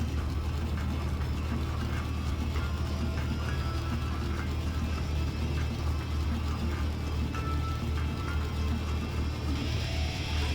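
The Polar Storm monster truck's engine rumbles on the track at a Monster Truck World Series show in Anaheim, a steady heavy drone with rising revs under loud, constant crowd and arena noise.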